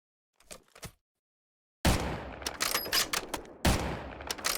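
Gunfire from a Minecraft gun mod: a couple of faint early pops, then loud, close rapid volleys with a brief pause before another burst, no talking.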